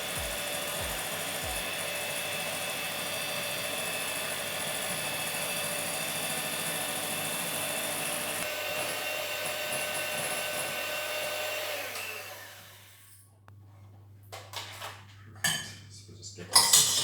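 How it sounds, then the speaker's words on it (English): Eggs and vanilla extract are whisked in a bowl for brownie batter, a steady close rhythmic churning with faint clinking that stops near the end, followed by a few clattering knocks. "I am just going to whisk this into the eggs"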